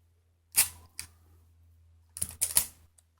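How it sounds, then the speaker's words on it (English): Tape is pulled off a roll with sharp, crackly tearing bursts, then pressed down over a purse zipper, with brief taps between; close and quiet otherwise. "let's go ahead and tape this down"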